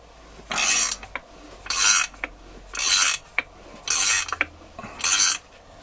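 Crankshaft drawn into a Pinasco 251 scooter engine case with a threaded puller tool, heard as five loud, evenly spaced bursts of rasping, ratcheting metal, each about half a second long, with faint clicks between them and no talk.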